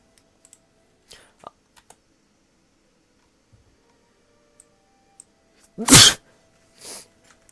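A single sharp, loud sneeze close to the microphone, followed by a quieter sniff, against near silence broken by scattered faint clicks.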